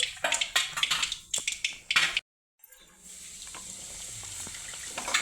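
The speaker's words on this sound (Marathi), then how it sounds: "कढईमध्ये जिरे मोहरीची फोडणी दिली" Cumin and mustard seeds crackle in hot oil in a kadhai, bursts of popping and sizzle up close, then a short silence before a steady, softer frying hiss continues.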